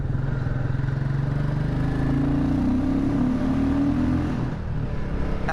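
A Royal Enfield Classic 350 motorcycle, a 20-brake-horsepower single, thumping steadily while being ridden, a loud continuous engine drone with low pulsing exhaust beats and a slight pitch rise, alone without talk.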